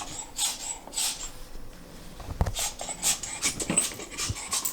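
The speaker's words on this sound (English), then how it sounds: "my dog is squeaking that toy." Close-up dog squeaking a rubber toy indoors, a series of short, high-pitched squeaks in an uneven rhythm, some in quick pairs, with soft chewing and panting noises between them.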